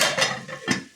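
Close metallic clinks and clatter from a pan lid being set onto a pan of frying, spice-coated fish in a home kitchen: two or three bright knocks within a second, with no voices.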